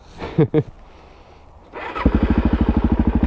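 A Suzuki DRZ400SM motorcycle approaches and passes close by, its single-cylinder engine rising from a distant hum into a loud, rapid rhythmic thumping. A few brief clicks come first, and the engine sound dominates the second half.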